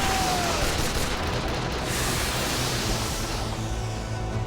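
Cannon fire in an Attack on Titan anime battle scene comes through as a dense, continuous roaring wash of blasts, loud and sustained throughout.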